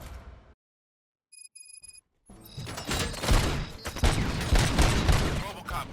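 Dense gunfire erupts in the video game RoboCop Rogue City, a continuous loud barrage of overlapping shots after a short quiet gap with faint electronic beeps.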